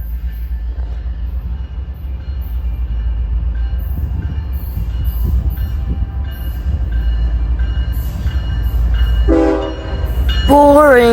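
A CSX freight train rolls past with a steady low rumble of wheels and cars, close and loud, then sounds its horn in strong multi-tone blasts near the end.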